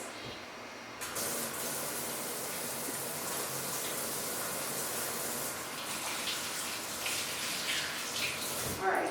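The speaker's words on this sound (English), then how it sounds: "run over to your sink and wash your hands" Tap water runs steadily into a sink while hands are washed underneath, a continuous close gushing that swells slightly near the end.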